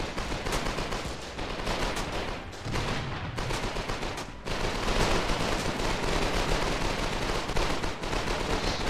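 Rapid gunfire crackles through a Foxhole competitive league battle, dense overlapping shots and bursts with a louder blast near the middle, steady and busy throughout with no talk.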